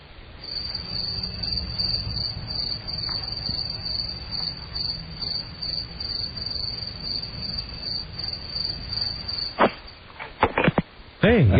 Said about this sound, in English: God, I love those crickets.